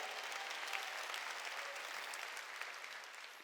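A church congregation at a Korean Wednesday worship service breaks into a dense wash of applause, many hands clapping at once in a continuous, fairly distant and moderately quiet roar that fades slightly toward the end.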